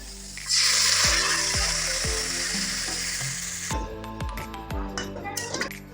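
Spice paste for cauliflower dalna sizzles loudly in a hot pan, a strong hiss that starts abruptly and slowly fades, punctuated by a steady series of metal spoon clinks and scrapes against the pan.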